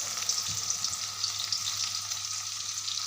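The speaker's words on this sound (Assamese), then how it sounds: "এইখিনি অলপ ভাজি লওঁ" Onions frying in a pan for vegetable fried rice, a steady close hiss of sizzling oil with a few soft stirring knocks and a low hum underneath.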